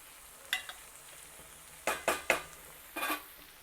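Cucumber pieces with tomato and sesame powder stirred in a pan, a few scraping stir strokes in bursts over a faint background sizzle, fairly close and moderately quiet.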